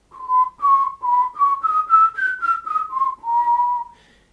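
Mouth whistling with the tongue tip touching the palate, demonstrated as a trombone embouchure exercise: a continuous solo whistle of several connected notes gliding up and then back down, clear and close over about four seconds.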